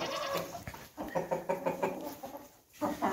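Hens cluck in a coop at night, a close run of repeated, uneven clucks and low murmuring calls with no talking.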